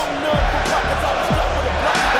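Crowd noise from a CAW wrestling match as Shane Carter, a 7'2", 400-pound wrestler, makes his entrance: a steady broad roar of an arena audience with scattered shouts and low thumps, heard under a commentator's talk.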